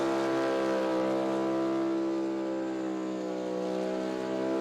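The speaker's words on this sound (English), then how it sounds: "But just have a listen to that engine screaming." Carburetted 411-cubic-inch small-block methanol drag car engine held at a constant 8,500-plus rpm at a Sydney drag strip, a loud, sustained, unwavering high-pitched scream with no voices.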